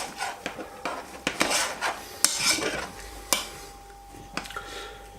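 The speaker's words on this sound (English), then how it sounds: "This is boiling, so I've turned it right the way down. Just give it a little stir." A spoon scrapes and clinks around a pot of boiling mushroom remedy that has been turned down low, giving a series of close, irregular stirring scrapes and knocks with no talking.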